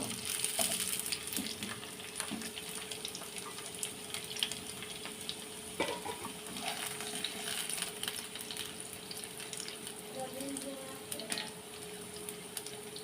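Fried potatoes go into a pan of hot oil with whole cumin, cloves, cardamom and dried chillies, giving a steady close sizzle and hiss with a few scraping stirs throughout.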